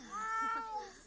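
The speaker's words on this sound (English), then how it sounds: "Our cat's like going berserk, girl." A cat in The Sims 4 meowing wildly, one short, faint, wavering yowl with a rising and falling pitch that lasts about a second.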